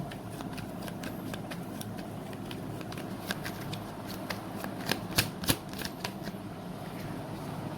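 Tarot cards are shuffled softly and continuously at close range, a quiet riffling patter with a few sharper slaps toward the end over a low background hum.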